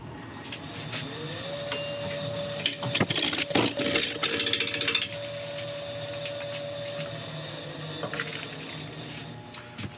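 A woodturning lathe runs at 800 RPM, turning a resin and wood bowl with a steady motor hum and whine. A loud burst of rough, rattling cutting noise sits in the middle, with a fainter scrape near the end.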